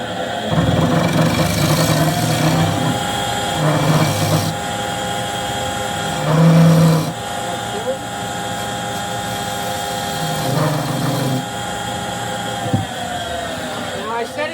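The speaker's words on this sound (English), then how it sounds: "So I'm just going to do that with the scraper." A scraper trues up a small cherry wood box spinning on a lathe, giving a steady motor drone with a sustained scraping whine and a few louder bursts as the tool bites the wood.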